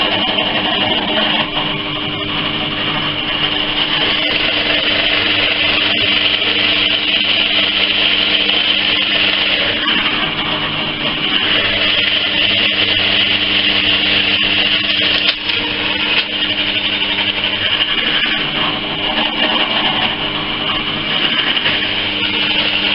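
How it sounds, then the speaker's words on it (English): A lathe drives a 28mm Forstner bit into wood for a nest box, producing a loud, continuous whirring grind that holds steady at close range for the whole stretch. "Next job, drill a hole. 28mm, Forstner bit."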